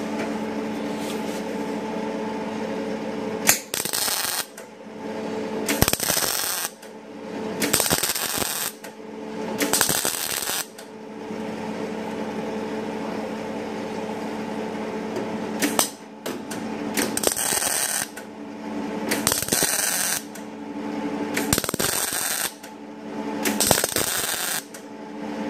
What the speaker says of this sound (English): what I'm going to do is I'm going to tack weld that right on there now